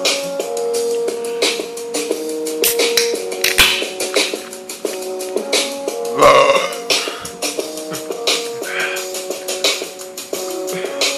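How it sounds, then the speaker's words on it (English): Repeated loud belches from a man after drinking a six-pack of Budweiser beer, several burps in succession with brief gaps, close to the microphone, with tapping noises in between. "I hate these last minute burps."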